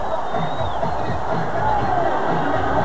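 Football stadium crowd at the 2002 AFC Championship game between the Raiders and Titans roars after a fumble, a loud, steady wall of cheering and whooping that holds throughout.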